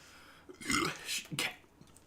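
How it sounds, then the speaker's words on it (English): A single burp from a man chatting about a film, rising briefly and then trailing off in two short bursts, fairly close and moderately loud, with no other talk over it. "I fucking burp."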